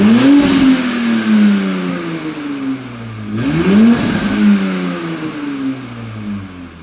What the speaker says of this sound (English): We're gonna get a couple revs here.